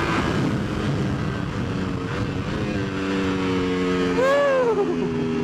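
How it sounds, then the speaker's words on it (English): A 2019 Ducati V4S superbike engine runs steadily on a race track, a loud continuous drone with rising and falling harmonic pitch, and a brief revving swell near the end. "Listen to the motor just purring."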